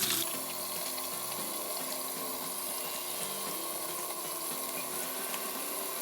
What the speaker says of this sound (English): turn on the water, rinse off our hands, get some soap, and really scrub it in for like 20 seconds